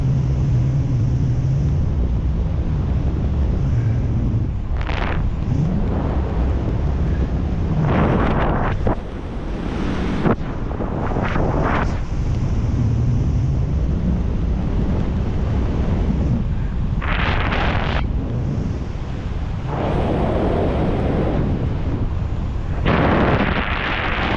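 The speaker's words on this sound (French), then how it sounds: "le vent va commencer à augmenter rapidement" Strong wind sweeps across a mountain ridge, roaring and buffeting the microphone in heavy continuous gusts that surge and ease with no pauses.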